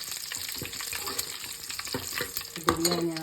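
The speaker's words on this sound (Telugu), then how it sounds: "ఇప్పుడు ఇవి కొద్దిగా వేగుతున్నాయి కదా" Cumin and mustard seeds with a bay leaf sizzle and pop in hot oil, a steady close frying hiss with small crackles and the scrape of stirring.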